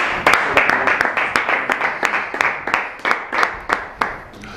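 A church congregation claps in steady unison, each sharp clap evenly spaced and loud in a brisk, regular rhythm.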